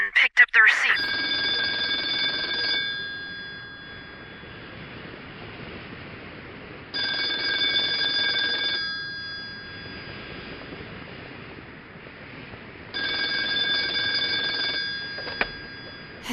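Old-style telephone bell from an audio drama rings in three long bursts separated by pauses, fairly loud over a low background hum.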